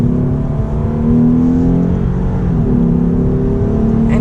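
A Lexus IS350 F-Sport's engine revs loud and close while the car is driving, a steady droning growl whose pitch rises and dips with the throttle, heard alone without talk.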